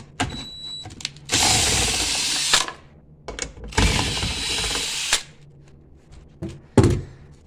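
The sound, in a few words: impact wrench removing 10 millimeter bolt on Nissan Armada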